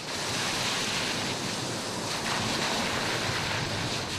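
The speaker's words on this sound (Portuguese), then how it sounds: "ajuda a minimizar a energia das ondas que atingem o calçadão durante o fenômeno natural" Ocean waves hit a seaside promenade during a storm surge, a steady, loud wash of surf roaring without a break and mixed with wind noise.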